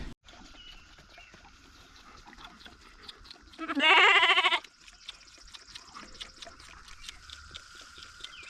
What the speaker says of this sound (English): We have little Miss Lottie here, the sheep